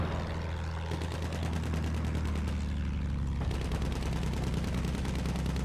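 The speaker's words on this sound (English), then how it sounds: "Bomber shooting at us." Rapid gunfire from a bomber aircraft in the Battlefield 1 video game, a dense continuous rattle of shots over a steady engine drone, loud and close throughout.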